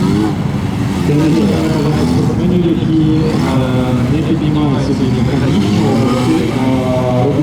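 A Suzuki GSF600 motorcycle engine revs steadily and loudly through a motorcycle gymkhana run, rising and falling with the throttle while someone talks over it throughout.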